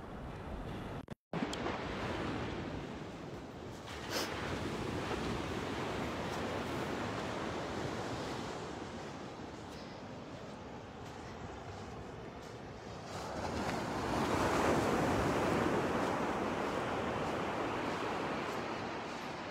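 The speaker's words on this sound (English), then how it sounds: "Let's listen to the sounds of the waves." Ocean waves wash onto a beach in Colombia, a steady broadband roar of surf with wind noise on the microphone, swelling louder toward the end.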